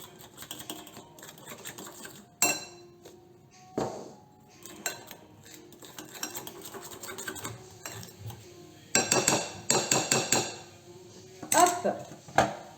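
Spoon scraping and clinking in a bowl while oat bran pancake batter is stirred, close and fairly quiet, with irregular bursts of rapid tapping clatter that grow busier toward the end.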